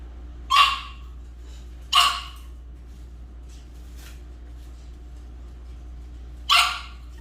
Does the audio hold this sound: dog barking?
yes